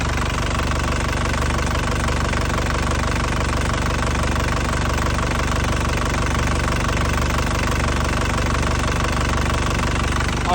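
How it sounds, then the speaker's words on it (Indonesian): A warm 2009 Isuzu Panther LS Turbo diesel engine idles steadily with a dense, even knocking clatter, loud and close, constant for the whole stretch and with no talking. "mesinnya dari jauh ya kelihatan ya, masih stabil banget"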